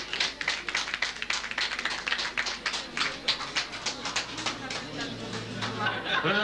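Applause breaks out for a woman buyer at a 1997 painting and photography art auction, with a crowd clapping briskly in an uneven rhythm while voices chatter underneath and a low hum rises near the end.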